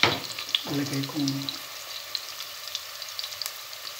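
Onions and ginger sizzling and frying in a pan, a soft steady crackle with a brief stirring scrape early on, heard up close at low volume.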